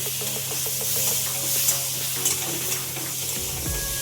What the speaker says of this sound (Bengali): আমরা আসলে অল্প তেলে খাই বলে একটু অল্প তেলেই ভেজে নিচ্ছি